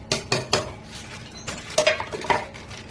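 A spoon stirs rice kheer in a metal pot, making a handful of clinks and scrapes against the pot's side, close and moderately loud, with no talking.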